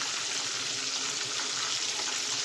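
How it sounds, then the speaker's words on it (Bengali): Food frying crisp in oil in a home kitchen pan, a steady dense sizzle that stays even and loud throughout, with no voices. "তো এবার ভাজাটা কড়া করে ভেজে নেব"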